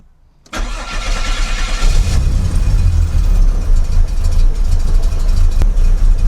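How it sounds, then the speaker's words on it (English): A VT SS with an L67 engine cranks for the first time, a sudden loud burst of starter and engine roar that settles into a rough, steady running drone close by, with no voices. "I reckon we try crank it for the first time now"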